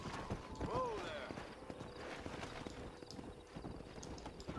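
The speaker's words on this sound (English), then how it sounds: "It bugs me a lot that these horses don't just run down the hill" Horse hooves clip-clop in the Red Dead Redemption video game, a quiet run of hoofbeats with a short whinny early on, while someone talks over them.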